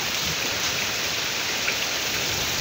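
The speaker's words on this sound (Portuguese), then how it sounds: "Essa chuva tá forte demais, gente." Heavy rain pours down steadily as a dense, even roar of drops hitting surfaces outdoors on a street during a downpour, loud and constant with no voices.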